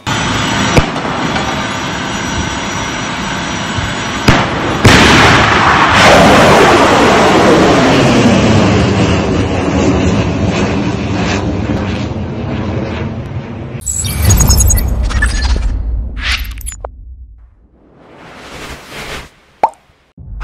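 A T-90 tank fires in Russia-Ukraine combat: loud, close blasts with long, rumbling decays, then a burst of harsh noise and sharp cracks before the sound drops away.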